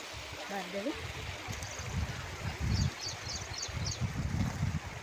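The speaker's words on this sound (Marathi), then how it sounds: "ही नदी आहे, तिथून पण आहे, हे इथून वाहतं आहे" A river flows and gurgles steadily close by near Gagangiri Ashram, Khopoli, with a short human vocal sound near the start and a few quick bird chirps above.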